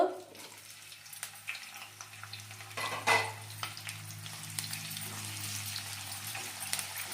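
Hot oil sizzles in a pan as ingredients go in while fish curry cooks, a steady close crackle with a louder spit and stirring clinks partway through.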